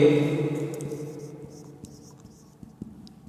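Chalk or marker scratches across a board during a physics lesson, short strokes faint beneath a voice explaining at the start.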